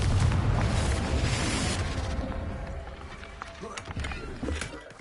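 A heavy boom from the Confringo explosion spell in Hogwarts Legacy, opening loud and rumbling, then fading into scattered smaller impacts and crackles.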